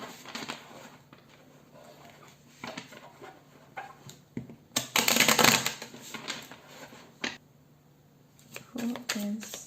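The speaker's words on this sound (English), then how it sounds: "let's shuffle the cards to see who is your soulmate" Tarot cards are shuffled during a reading, giving a run of soft, rapid riffling and tapping with a louder burst of card noise in the middle, heard close under a speaking voice.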